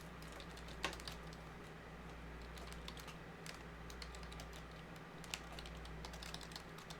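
Quiet, steady typing on a computer keyboard, with soft rapid key clicks and an occasional sharper tap over a low background hum, without talking.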